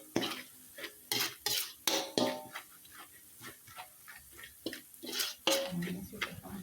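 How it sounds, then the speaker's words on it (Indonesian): Shallots sautéing in a pan while a spatula stirs and scrapes, giving a series of sharp clinks and scrapes in an uneven rhythm over a low sizzle. "Kita tumis sampai dengan matang dan baunya wangi pemirsa."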